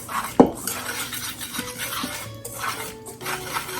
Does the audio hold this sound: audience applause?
no